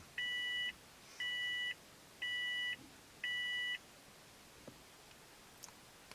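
A car phone mount powered from the cigarette lighter boots up as the car is switched on, giving four evenly spaced electronic beeps, clear and close, followed by quiet.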